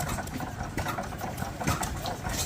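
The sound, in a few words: antique Foos stationary engine running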